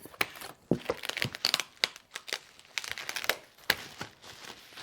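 Cardboard and plastic packaging around a toner printer being opened, with irregular crinkling, rustling and tearing in quick bursts, close up with no talk.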